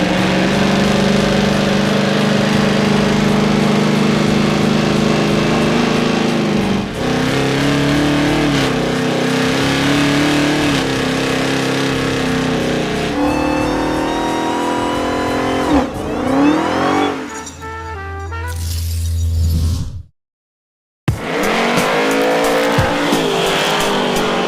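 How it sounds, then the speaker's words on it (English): A 1968 Dodge Charger with a 707 hp Hellcat engine roars through long, loud revving burnouts at a drag event, engine pitch climbing and falling with tire squeal, close and sustained with a brief cut. "Let's do some Big Smoky burnouts and get out of here."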